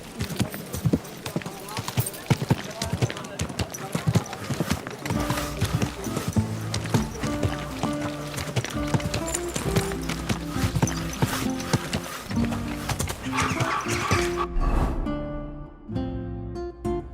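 A horse's hooves clip-clop steadily across the ground in the medieval video game Kingdom Come Deliverance II, heard under an orchestral music score.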